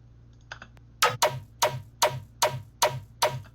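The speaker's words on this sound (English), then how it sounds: "So it's kind of like a basic pluck, bass pluck kind of thing, and I just blew it out." A short burst of harsh, distorted synth bass plucks, seven evenly spaced hits with a gritty, blown-out tone, alone with no voices.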